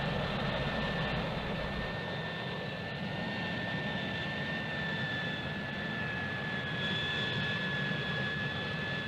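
A Harrier jump jet hovers in vertical takeoff and landing mode, its engine producing a loud, steady roar with a sustained high whine that holds level throughout.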